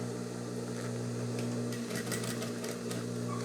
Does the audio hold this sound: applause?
no